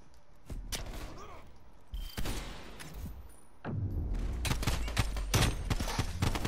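Rapid gunfire bursts from a tactical shooter game called Rogue, crackling loud and close in several volleys, with sharp thumps and a denser barrage toward the end.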